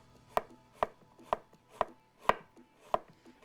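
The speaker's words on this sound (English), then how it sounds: "we're going to cut these up nice and thin" Six separate knife strokes on a cutting board, evenly paced about half a second apart, each a crisp close thud as food is sliced thin, with no talking.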